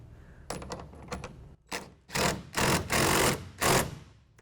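Clamp being tightened onto the bed cap rail of a Gator SR2 truck bed cover on a 2014 Silverado/Sierra crew cab, giving a run of close, sharp mechanical clicks and ratcheting scrapes that grow louder and longer toward the end.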